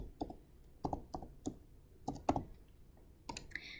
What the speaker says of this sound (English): I would type Clausen.